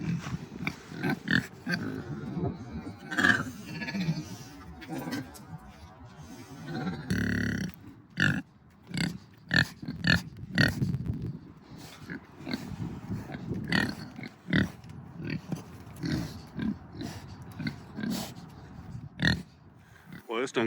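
KuneKune pigs out on grass give off a steady run of low, snuffling grunts and short oinks, close and fairly loud, with breezy outdoor noise behind them.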